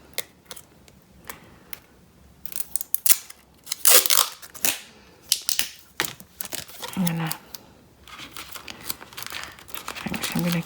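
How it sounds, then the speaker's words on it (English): Tape being pulled and pressed down onto a homemade paper squishy, with crinkling paper, sharp tearing strips and close crackling handling sounds in uneven bursts. "Let me just tape that to keep it secure because I think otherwise it will rip."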